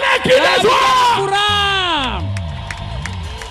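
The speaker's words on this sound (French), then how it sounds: "louez-le, applaudissez-le, poussez-le" Church congregation loudly cheering, whooping and applauding together, with shouted voices and sustained yells rising over a dense wash of clapping.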